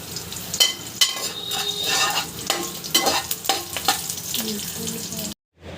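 Dried red chillies and green chillies sizzle in hot tempering oil for a chickpea prasadam dish, with a steady frying hiss broken by sharp spatters and metal stirring scrapes close by.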